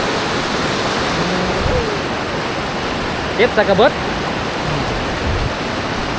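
Loud, steady roar of rushing floodwater fills the whole clip, with someone briefly speaking partway through.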